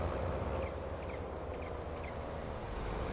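A steady low combine harvester engine drone in Farming Simulator 22 rumbles continuously, with faint high chirps drifting above it, no voices present.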